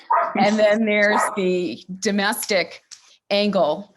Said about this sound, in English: Sorry for my dogs here.